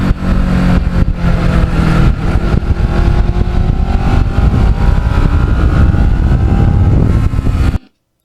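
A restored Kawasaki Ninja motorcycle with carbon fiber parts runs loudly and close, its engine holding a steady droning note with subtle pitch rises before cutting off abruptly at the end.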